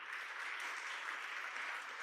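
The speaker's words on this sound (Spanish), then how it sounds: "Dale un aplauso al Señor si ha sido así." Steady applause from a church congregation fills the room, a thick, continuous patter of many hands clapping at an even level throughout.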